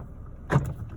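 A single short click from the interior door lock switch of a VW car, close and clear, followed by a faint mechanical settling in a quiet cabin.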